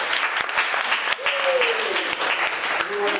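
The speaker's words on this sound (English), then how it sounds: "Please give Russell Rich a round of applause." Steady audience applause at a senior community awareness evening event, a continuous wash of clapping with a person speaking briefly over it.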